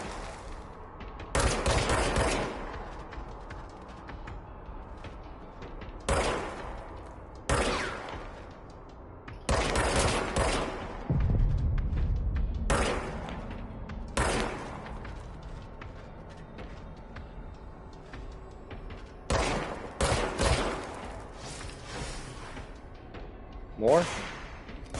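Gunfire in a PS4 shooting video game, heard as sharp, loud bursts of rapid automatic fire separated by pauses, some rounds echoing with a heavier thud, with game ambience and occasional talk between volleys.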